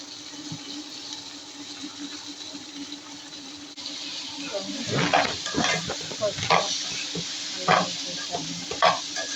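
Chicken pieces for gongura chicken curry sizzle and fry in a pan, with a steady hiss throughout and stirring clatters growing louder in the second half, close and fairly loud.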